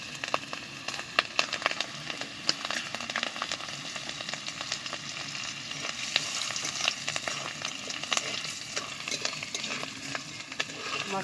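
Whole garam masala, bay leaves, slit green chillies and nigella seeds sputter in hot oil, a busy crackling sizzle with sharp pops and occasional utensil clinks, close and constant.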